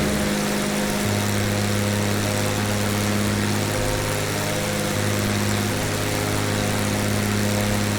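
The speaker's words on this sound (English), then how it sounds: "a fairly constant noise with the engine" The simulated piston engine of a Rockwell Aero Commander 500S in Microsoft Flight Simulator drones at a constant, even pitch throughout, a loud, unbroken hum with a slight shift in tone early on.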